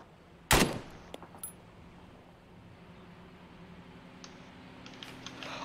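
Gunfire in the Arma 3 video game during an armored convoy ambush: one sharp, loud shot followed by a few faint distant pops and clicks over a quiet ambient background.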